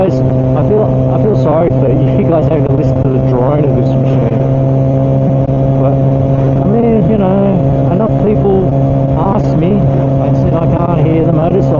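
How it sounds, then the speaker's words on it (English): A Kawasaki ZX4R motorcycle engine drones steadily while being ridden, heard from a helmet mic. Sustained tonal hum with shifting pitch runs throughout, under a rider talking much of the time. "hear the motorcycle?"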